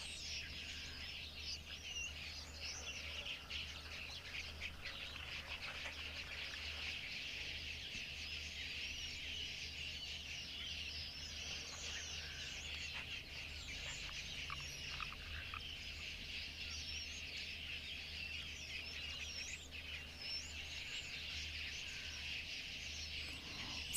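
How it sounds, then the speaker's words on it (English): A grey lory, or go-away bird, calling at a waterhole in the wild, its repeated calls carrying over a constant bed of chirping insects and low background hum. "at the moment I'm hearing the grey lory, which is also called the go-away bird."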